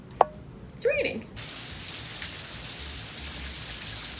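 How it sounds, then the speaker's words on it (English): Rain falling outdoors, a steady close hiss of drops that begins abruptly after a brief click and a short voiced sound, then continues evenly to the end. "It's raining."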